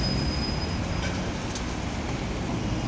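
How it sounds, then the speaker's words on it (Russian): A tram passes along Gorky Street, a steady, loud, close rolling rumble with a faint thin squeal from the wheels on the rails, with no voices. "Ну вот, наконец, еще один трамвай."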